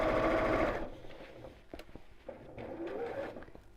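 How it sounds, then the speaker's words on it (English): A sewing machine stitches along the raw edges of a fat quarter fabric storage box, running in a loud steady whir, then stopping, then running again in softer, uneven bursts close by. "Just making sure my raw edges are lined up as I sew."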